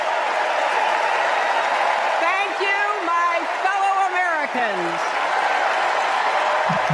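A Democratic National Convention crowd applauds and cheers in a loud, continuous wash of sound while a speaker talks over it.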